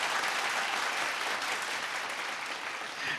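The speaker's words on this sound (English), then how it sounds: "let's give all of our sponsors one more massive round of applause" A crowd at a televised vocal singing competition gives a steady round of applause that carries evenly for a few seconds at moderate distance, with no voices over it.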